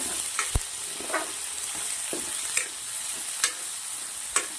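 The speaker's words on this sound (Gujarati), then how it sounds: "ડુંગળી નાખ્યા પછી સરસ મજાનું ડુંગળી અને લસણને શેકી લેવાનું છે તેલના અંદર." Chopped onion and garlic fry in hot oil with a soft continuous sizzle, broken by a few sharp clicks and scrapes of stirring, and no voices.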